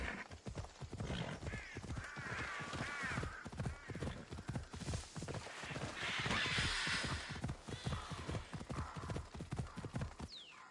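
Horse hooves clip-clop in a steady, brisk rhythm in Assassin's Creed Odyssey, close and clear, with a brief neigh and faint game voices and ambience behind.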